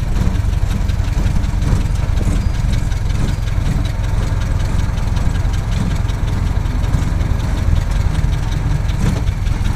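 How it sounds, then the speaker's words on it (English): A Ford Model T's large 2.8-liter four-cylinder engine runs steadily at Greenfield Village in Dearborn, Michigan, a continuous low rumbling idle that stays loud and close throughout with no pauses. "Now, Model T's have a four-cylinder engine in it, like a lot of our cars do today."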